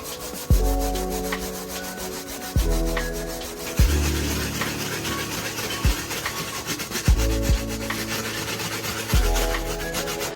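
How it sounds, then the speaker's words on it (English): A brass bristle brush scrubs the outsole of an Air Jordan 1 Low sneaker with cleaning solution in rhythmic back-and-forth strokes, a close, loud scratchy rubbing that repeats roughly every one to two seconds. "I'm going to be using my brass bristle brush with the same solution."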